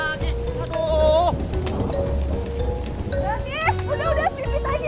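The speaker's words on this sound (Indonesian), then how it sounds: "baru juga panas, udah dikasih hujan lagi" Rain falls onto a rooftop and tiles in a steady, dense wash, heard under continuous talking and music-like tones.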